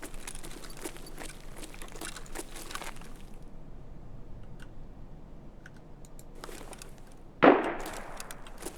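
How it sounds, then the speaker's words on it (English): A single gunshot in the video game Escape from Tarkov, a sharp, loud crack near the end, preceded by several seconds of close keyboard clicking and quiet background noise, with no talking. "Gunshot."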